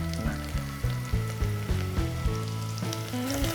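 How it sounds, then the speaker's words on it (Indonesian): Pepper for a cheese risoles filling sautés in a pan with a soft steady sizzle, heard beneath melodic background music with no talking. "Ini tumis aja sampai harum"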